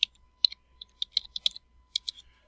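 Close keystrokes on a computer keyboard while entering an AutoCAD command, a quick irregular run of crisp clicks with short pauses, no voice.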